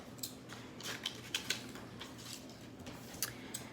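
Scissors snip through paper while a craft shape is cut out, a run of sharp, close clicks and crisp cuts that come in irregular bursts, with no talking.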